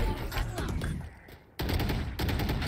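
Gunfire in Valorant rattles in dense, rapid bursts at close range, drops to a brief lull, then resumes with another volley.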